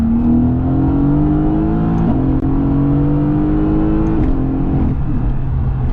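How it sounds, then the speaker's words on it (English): A Mercedes-AMG GT S with a 4-liter V8 and seven-speed dual-clutch gearbox revs hard under acceleration, pitch climbing steadily through several quick upshifts, loud and close from inside the car. "this car, it also sounds so good with the 4-liter V8"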